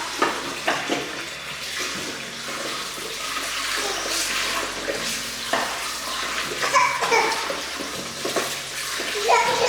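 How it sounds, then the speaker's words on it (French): Cold tap water running into a pot of boiled eggs, a steady splashing stream that continues throughout with small clinks and bumps. "moi je mets de l'eau froide pour arrêter la cuisson des œufs."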